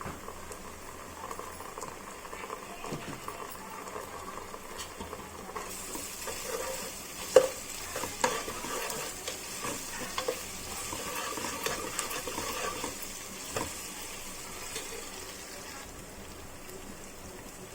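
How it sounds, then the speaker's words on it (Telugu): Sliced onion and a spoonful of ginger-garlic paste fry in a pan for a prawn and tomato curry with tender tamarind leaves. The sizzle is soft and steady, with intermittent stirring scrapes and taps close by and no talk. "ఉల్లిపాయ అట్లా వేగినాక ఒక స్పూను అల్లం వెల్లుల్లిపాయ పేస్ట్"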